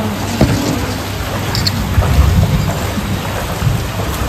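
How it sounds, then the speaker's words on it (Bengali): Heavy rain pours down in a thunderstorm, a dense continuous hiss of drops on surfaces with low rumbling thunder swelling through the middle, loud and close, with no voices. "প্রচণ্ডই বৃষ্টি হলো, মারাত্মক"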